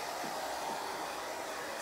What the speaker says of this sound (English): I turned the hair dryer to the heat setting